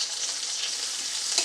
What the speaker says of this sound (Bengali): মাছগুলো এক পিঠ ভাজা হয়ে গেছে, অপর পিঠটা এবার আমি উল্টে দিচ্ছি